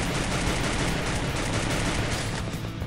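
Rapid sustained P90 automatic gunfire in the Free Fire battle royale game, a dense continuous burst of loud shots filling the whole moment with no pauses.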